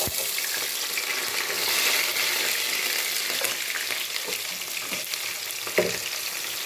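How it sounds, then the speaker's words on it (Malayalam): Cardamom, cinnamon and garlic sizzle steadily in hot oil for a capsicum roast, a close, continuous crackling fry with a few soft stirring clicks and no talking. "അത് നല്ല ചൂടായ എണ്ണയിലിട്ട് നല്ല മൂത്ത് വരുന്നുണ്ട്."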